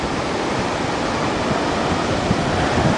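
Big ocean waves roll and crash along the sea near Aparri at the northern tip of the Philippines, a steady loud roar of surf with wind across the microphone and no pauses, with nobody speaking.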